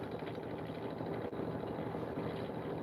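A spiraling tool spinning at 600 RPM gives a steady, continuous whirring drone that holds even and unbroken throughout, with no voices over it.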